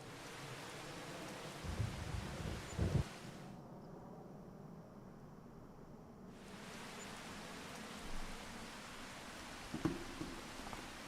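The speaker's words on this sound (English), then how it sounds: "it sounds like rain" Rain in Farming Simulator 25 falls as a faint, steady broadband hiss with a few low thumps scattered through. Partway through, the high end briefly drops out.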